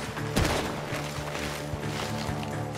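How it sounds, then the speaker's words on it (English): Gunfire in the open-world western video game Red Dead Redemption 2, a dense crackle of shots near a barn, with one sharp report standing out early amid a continuous loud clatter. "Gunshots are coming from that barn!"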